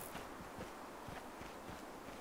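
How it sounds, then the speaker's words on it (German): Footsteps in the video game Arma 3 DayZ tread at a steady walking rhythm, faint and somewhat distant over a soft ambient hiss. "Ich höre Schritte."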